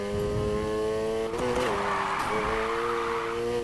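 Car drifting in the racing game Need for Speed Heat, engine whine holding steady pitch with sustained tire squeal, pitch dipping briefly mid-slide before rising again, loud and continuous throughout.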